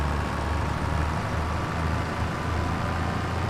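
A tractor engine in the farming video game Farming Simulator 25 drones steadily, a dense low rumble heard from the cab, continuous and fairly loud without talk.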